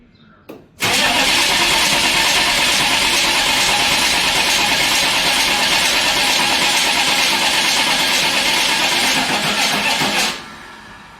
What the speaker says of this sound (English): I'm going to go into the cab now and glow it and see if it will start on its own without aero start.